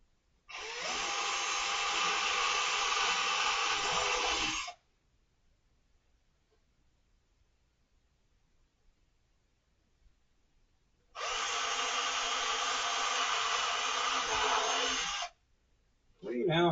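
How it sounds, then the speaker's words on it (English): A power drill whines steadily in two long bursts of about four seconds each while drilling holes in wood, separated by a quiet pause, close and loud. "Careful not to drill into my cheap dumpster find chair."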